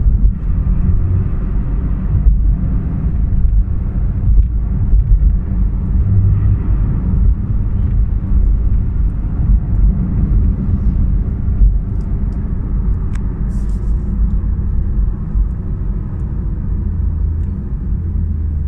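A 2016 Porsche 911 GT3 RS with a PDK gearbox drives in traffic, its engine a loud, steady, close rumble from inside the car, with no clearly separate rev blips standing out.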